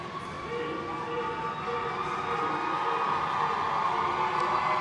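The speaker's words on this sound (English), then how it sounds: "And you're hearing the roar." Roller derby crowd roaring at a bout, a continuous broad wash of cheering voices that builds slightly, loud and sustained with no clear speech.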